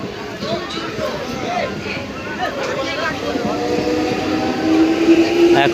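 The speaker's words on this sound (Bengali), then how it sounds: "স্টেশনে ট্রেন যাচ্ছে।" An Amta-line train runs through Makardah station, a steady rumble and rail noise building louder toward the end while people talk nearby on the platform.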